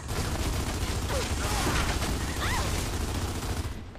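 Rapid gunfire in Gears of War: Judgment team deathmatch multiplayer, a dense continuous barrage of shots with mechanical clatter and brief tonal effects, loud and steady throughout.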